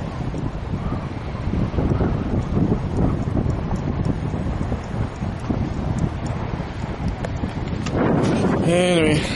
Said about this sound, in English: it's really windy, really windy